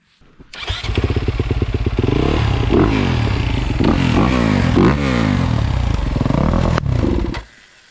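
A two-stroke Yamaha YZ125 or four-stroke Honda CRF250R dirt bike starts up close by, catching and then revving loudly and roughly in repeated swells for several seconds before cutting off abruptly.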